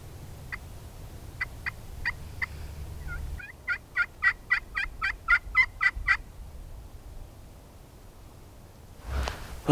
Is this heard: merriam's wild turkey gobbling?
yes